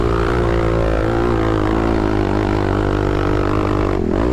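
A 250cc dirt bike with a paddle tire climbs a sand hill in second or third gear, its engine a loud, steady droning roar held close throughout before dropping away at the very end.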